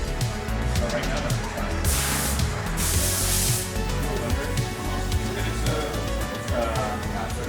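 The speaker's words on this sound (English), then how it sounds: "We're gonna put a little bit of sea salt spray." Sea salt spray misted onto hair during a men's haircut and beard trim, two short hissing bursts close to the mic, heard under talk and the ambient bustle of a barbershop.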